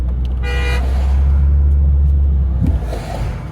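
Car horn beeping amid congested holiday weekend traffic on Route 90 heading to Ocean City, Maryland, a short honk over a loud constant engine rumble.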